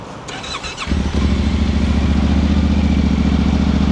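A 2025 Yamaha Tenere motorcycle with an aftermarket slip-on exhaust cranks with a short starter whir, catches, and settles into a steady, loud, deep idle rumble through the exhaust.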